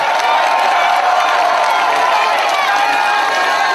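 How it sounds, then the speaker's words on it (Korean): Loud, dense crowd cheering and applause fill a South Korean political rally, a continuous roar of many voices and clapping that holds steady throughout. "여러분 박수 많이 보내주세요"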